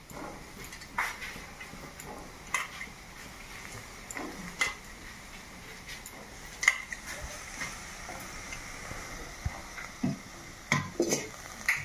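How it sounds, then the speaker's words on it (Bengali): Wild eggplants, turkey berries, cook in an iron wok while a utensil stirs them, giving a faint sizzle broken by repeated sharp scraping clinks against the pan at close range. "এই সীতার বেগুনগুলোকে কড়াইয়ের মধ্যে দিয়ে দিচ্ছেন।"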